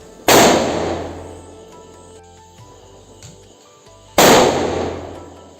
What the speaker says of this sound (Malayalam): പിന്നെ പടക്കം പൊട്ടിക്കുകയാണ്.